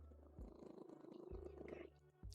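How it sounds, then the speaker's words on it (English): A pet cat purrs steadily and close, its rhythmic rumbling cycles rising and falling in breaths over a quiet room with no talk. "Listen to those purrs."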